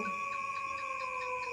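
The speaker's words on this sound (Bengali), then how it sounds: "দূর থেকে ঝিঝি পোকার ডাক ভেসে আসছে" Crickets chirp far off at night, a steady trilling drone with a faint pulsing shimmer throughout, used as an eerie horror story sound effect.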